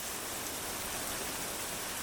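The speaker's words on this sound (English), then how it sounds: "it was raining hard" Dense, steady rain pours down in a constant hiss, heavy and even with no pauses.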